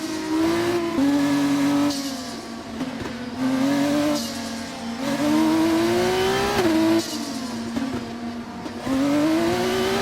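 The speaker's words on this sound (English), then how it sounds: "We need to keep the engine cool though, so don't go too high with the revs." Formula 2 car engine in the F1 24 video game revving on the starting grid at Azerbaijan, repeated loud whining rises and falls in pitch with clear gear-like steps, close and steady, with no talk.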